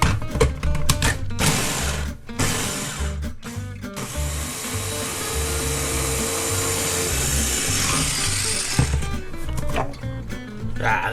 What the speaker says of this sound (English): I'll just wazz that down a few times until I get sort of a rough puree.